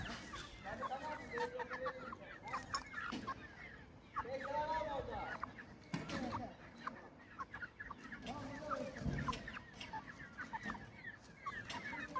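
Indian game chickens cluck repeatedly in a sunny yard, the calls near and moderate, mixed with a person talking.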